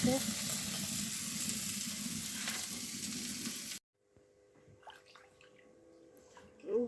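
Pointed gourd, bitter gourd and dal fry in a hot pan with a loud, steady sizzle for several seconds, then a sudden drop to quiet kitchen clatter and faint stirring noises, with a brief sizzle returning at the end.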